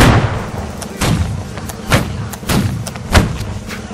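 Musket volley gunfire in the Napoleonic line-battle game Holdfast, loud close booming shots, about six spaced roughly half a second to a second apart, each with a thudding report and trailing echo.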